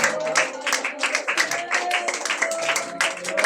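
A church congregation claps steadily in a dense, continuous patter, a sustained tone and voices running underneath.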